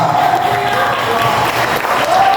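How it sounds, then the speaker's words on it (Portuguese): A church congregation claps in praise at a service, a loud, continuous crowd of hands with cheering and voices mixed in, and a sustained tone running underneath. "E as palmas, glorifique igreja."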